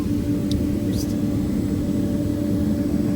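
An airplane in flight, with a steady, loud, broadband engine drone filling the cabin continuously and no break in level.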